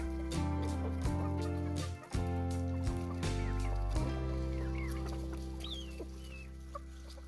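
Several Tinted Coral laying hens clucking and murmuring close by in their coop, with occasional sharper squawks over a steady low hum.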